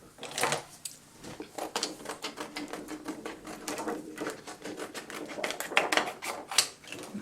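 Scissors cutting paper card pieces for a wreath card craft, a close, steady run of quick crisp snips that rises and falls in loudness.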